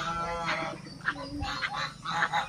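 Domestic ducks at a weekly village market let out nasal, honking quacks in several close bursts over a low background murmur.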